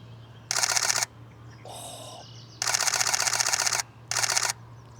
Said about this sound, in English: Oh, listen to that shutter, guys.